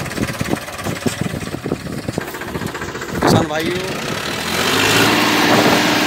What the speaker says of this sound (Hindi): अब इस ट्रैक्टर की ताकत देखना